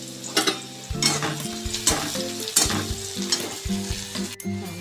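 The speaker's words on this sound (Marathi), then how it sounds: "कांद्यामध्ये आपण थोडंसं मीठ घालूया, जेणेकरून आपल्या कांदा चवीला पण लागेल आणि लगेच शिजला जाईल।" Onion sautéing with salt in a pan, a constant close sizzle punctuated by rhythmic scraping and clinking of a spatula stirring against the metal, with no voices.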